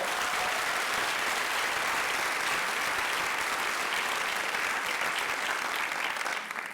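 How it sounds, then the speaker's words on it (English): Sustained applause from an audience at a school district state-of-schools event, dense and steady throughout at a constant level before easing slightly at the end. "Let's give her a round of applause."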